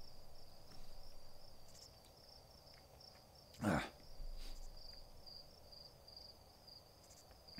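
Crickets in the video game Outer Wilds chirp faintly and steadily throughout, a high continuous trill in the background. One brief, louder bump of noise passes midway.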